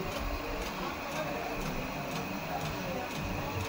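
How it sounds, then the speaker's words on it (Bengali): A digital coil winding machine winds a pedestal fan coil, giving a steady mechanical whir with a faint regular ticking running throughout, close and continuous. "দেখানো হচ্ছে ডিজিটাল মেশিনে কয়েল তৈরি করা হচ্ছে"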